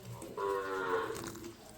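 A cow gives a single drawn-out low moo at milking time in a village cattle yard, fairly close and lasting about a second over quiet background.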